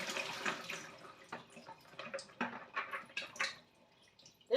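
Soaking water drains off a cup of washed Nigerian brown beans, pouring and splashing in uneven bursts with drips between, ending in a sharper splash.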